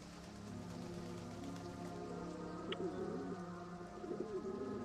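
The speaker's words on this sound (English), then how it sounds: "I hear pigeons." Pigeons coo in low, rolling phrases through the second half, set against a steady rain-like hiss and a bird call or two, with no talking.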